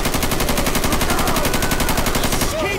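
Loud, continuous rapid-fire gunfire aimed at a tank in a zombie survival video game, dense automatic bursts hammering for nearly three seconds before cutting off abruptly.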